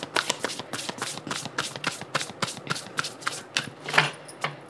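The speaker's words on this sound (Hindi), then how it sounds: "तो मैं कुछ और भी कार्ड्स लूँगी आपके लिए।" Tarot cards are shuffled by hand in a rapid run of papery riffles and flicks, close and fairly loud, with no talking over it.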